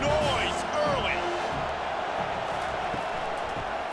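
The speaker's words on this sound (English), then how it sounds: "This crowd bringing the energy and noise early." Stadium crowd roaring steadily at a Penn State at USC game in EA College Football 25, a loud continuous wash of fans with faint whistle-like tones early, no voices over it.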